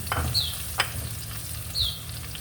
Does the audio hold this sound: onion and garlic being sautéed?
yes